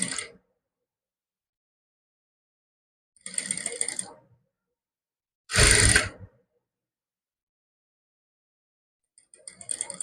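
A sewing machine stitches along the folded edge of a naira-cut kurti suit in short separate bursts of rapid mechanical clatter, each lasting about a second with silent pauses between.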